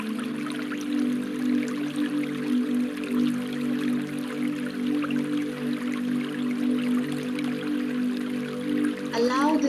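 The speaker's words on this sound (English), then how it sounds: "we are under this massive waterfall" A massive waterfall rushes in a steady, even wash of falling water for a guided meditation, continuous and moderately loud, with sustained low tones humming underneath.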